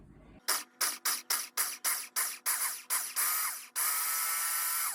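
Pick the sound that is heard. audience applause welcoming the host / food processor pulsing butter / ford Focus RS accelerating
food processor pulsing butter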